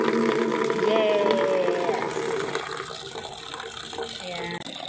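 Water gushes from a tap into a bucket for washing a car in Hong Kong, a loud steady rushing fill with metallic creaks from the tap, while people talk in the background.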